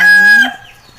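A rooster crows loudly and close in a single drawn-out call that breaks off, followed by faint clucking from chickens in the background of an outdoor cooking setting.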